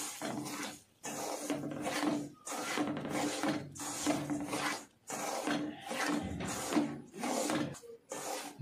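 Rava and raisins are stirred together by hand for rava laddu, a series of rough scraping and rubbing strokes in bursts separated by short pauses, close and fairly loud with no voices.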